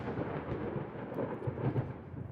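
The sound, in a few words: thunderstorm in video game Ultimate Admiral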